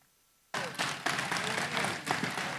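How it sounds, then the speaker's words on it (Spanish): An audience at a municipal accountability event bursts into applause after a quiet moment, a full clapping crowd that sounds fairly near and stays steady to the end. "nuevamente un fuerte aplauso a la Secretaría de Movilidad"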